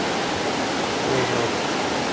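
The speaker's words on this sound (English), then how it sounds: "waterfall is cool though" Steady broadband rush of a waterfall along the Adams Canyon hiking trail in Layton, Utah, heard as continuous, even water noise with no talk.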